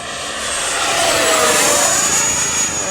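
An RC JAS-39 Gripen with a 70mm electric ducted fan whines at full throttle, a loud high-pitched rushing roar that swells and then slightly fades as the model jet passes nearby.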